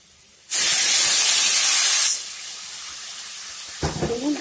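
Tomatoes drop into a hot pan of ginger-garlic paste for vada curry, setting off a loud burst of hissing that settles into a steady, softer sizzle, with a brief voice near the end.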